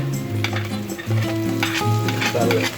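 Garlic sizzles loudly while being sautéed in a pan, with close stirring scrapes over the hiss and a steady tonal hum underneath.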